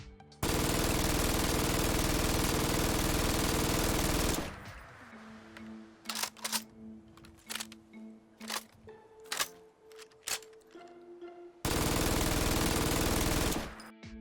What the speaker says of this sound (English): The MG42 mod also features some beautiful custom animations as well as custom sounds